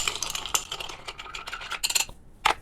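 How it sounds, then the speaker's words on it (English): A spoon clinks and scrapes inside a glass with ice, a quick rattling stir of light taps, fairly quiet and close. "Give it a little stir."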